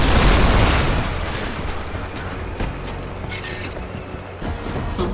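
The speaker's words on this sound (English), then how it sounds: "it is fun destroying these buildings" A destructible building blowing apart in Red Faction Guerrilla Re-Mars-tered, starting with a loud booming burst that fades into a long rumble of crumbling debris and scattered clatters, no voices.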